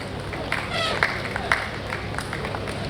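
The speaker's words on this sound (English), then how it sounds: "Please don't stop clapping." Audience applause and clapping at an association's annual general meeting as the chairman walks on stage: a steady wash of many hands with a few sharper claps standing out, a voice speaking over it.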